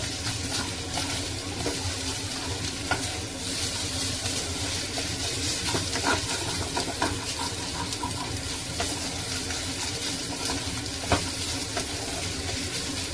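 An egg frying in a pan for a breakfast curry, a steady close sizzle and crackle with occasional sharper pops, no voices.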